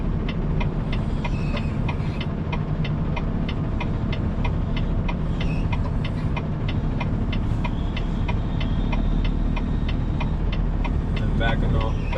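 A semi truck engine rumbles steadily at low speed while the rig maneuvers to line up its trailer, loud and close, with a regular ticking clicking over the drone.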